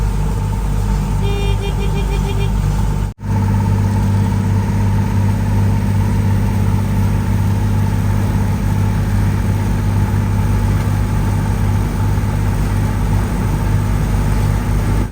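A passenger boat engine drones steadily on the Alappuzha backwaters, a loud, continuous low rumble heard close up with no talking over it.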